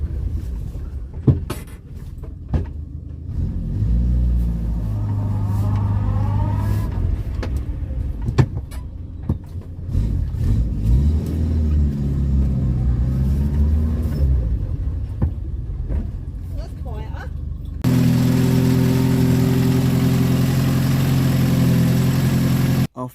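A Renault 10 engine runs smoothly at close range, a steady mid-pitched idle with some gentle rises in revs, then a louder, denser drone in the final seconds.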